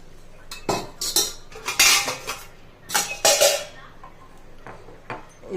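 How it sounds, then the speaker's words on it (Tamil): A metal spoon stirs lemon tea in a cup, giving a series of bright clinks against the rim at an uneven pace, close and fairly loud with no talking. "இப்போ இந்த டீயை நல்லா கலக்கிட்டு"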